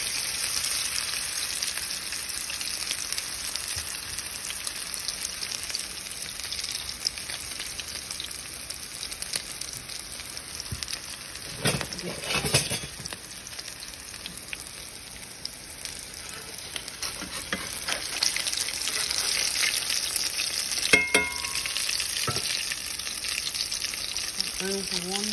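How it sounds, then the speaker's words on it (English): Low carb salmon patties fry in a pan with a steady crackling sizzle that runs throughout, a few louder pops and spatters rising over it now and then. "And these are gonna fry just like normal salmon patties."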